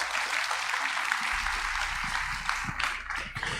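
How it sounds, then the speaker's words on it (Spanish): A church congregation applauds loudly and steadily, many hands blending into a dense roar, with a deep rumble joining partway through and a few scattered sharper claps and crowd noises toward the end. "Denle ese aplauso bien fuerte al Señor"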